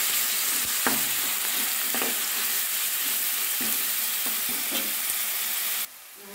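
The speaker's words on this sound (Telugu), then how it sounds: "ఇందులో సన్నగా తరిగి పెట్టుకున్న ఉల్లిపాయ ముక్కల్ని వేసి బాగా వేయించుకోవాలి" Thinly sliced onions fry in a pan with a steady, even sizzle, broken by occasional scrapes and clicks as they are stirred, heard alone without any voices.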